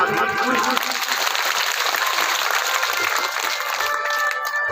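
A crowd at a Hindu Shrimad Bhagavat Katha discourse claps in a loud, sustained burst of applause that continues evenly throughout, with a faint tonal hum beneath it.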